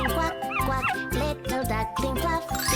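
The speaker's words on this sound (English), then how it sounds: "Puppy." A puppy barks and yips in quick high-pitched bursts, close and fairly loud, with short whimpering tones between the barks.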